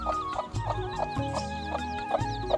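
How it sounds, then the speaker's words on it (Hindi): Hens and their chicks clucking in a farmyard, repeated short clucks in a steady rhythm over a constant low hum, fairly close and moderately loud, with no talk. "इसकी मुर्गी और उसके चूजे और अंडे"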